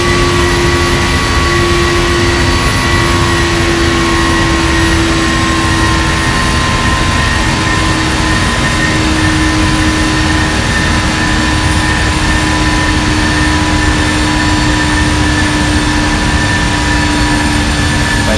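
A jet airliner's engines drone at cruise in the Prepar3D flight simulator, a loud, unbroken broadband roar with steady tonal whines held throughout.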